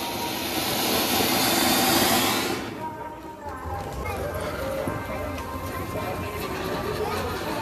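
Firework rockets whoosh up in a loud, broad hissing rush that fades after a couple of seconds, then a noisy outdoor background of crackle and chatter follows, with voices talking nearby.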